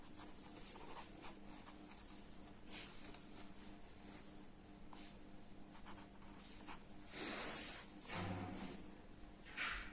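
Pen or marker scratching across a surface while an equation is worked out, soft intermittent strokes and scrapes in a quiet room, with a louder rubbing burst near the end.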